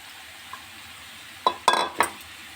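A spatula mixes mashed potato in a pan while making a chicken sandwich. Three or four short scraping, squelching strokes come close together after a mostly quiet start, with no voices.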